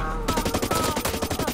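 Rapid, loud automatic assault rifle fire in the shooter Blacklight Retribution, a steady close burst of evenly spaced shots with no pauses.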